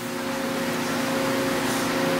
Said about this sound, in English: the noise you're hearing is coming from here, where the gears are turning and brushing against the housing